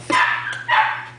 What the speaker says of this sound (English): What are you doing, dog?